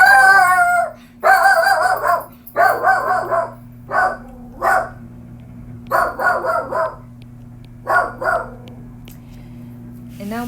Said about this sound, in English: And now my dog is making his appearance.